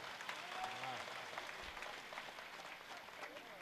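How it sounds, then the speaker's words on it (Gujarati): An audience at a live stage event claps continuously, a steady, moderately distant wash of applause with a voice faintly audible underneath. "એવી જોરદાર તાળી વગાડો ભાઈ"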